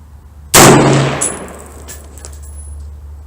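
A single 6.5 Creedmoor AR-10 rifle shot fired at a steel target 800 yards away: one sharp, loud crack followed by a fading rumble, with a faint metallic ring from the distant steel a moment later.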